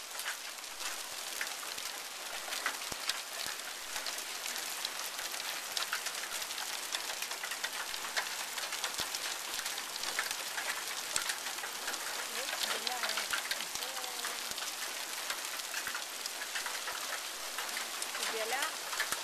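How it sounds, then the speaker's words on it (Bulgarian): Hail falling during an April 2013 hailstorm, a dense continuous patter of many small impacts on surfaces, steady and fairly loud throughout with no pauses. "Правим първата градушка за 2013 година на 6 април."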